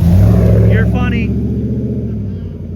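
A passing car's engine rumbles close by, a steady low drone that slowly fades while a person talks over it.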